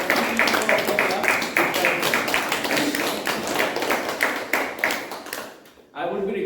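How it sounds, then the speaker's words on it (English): An audience claps for the club CEO at a club installation ceremony, loud dense clapping with a few sharp individual claps that fades out near the end before a voice begins speaking. "So please give a thunderous round of applause to the man, the CEO of the club."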